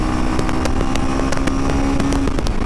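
Royal Enfield Himalayan 450 motorcycle engine running hard at a steady, loud drone during a 0 to 100 acceleration run through the gears, with rhythmic pulses and a sustained tone close to the rider.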